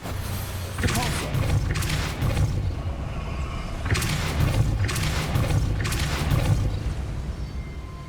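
In the video game Hogwarts Legacy, the Depulso spell is cast, heard as a series of loud, booming magical blasts that come in clustered bursts over a steady ambient background.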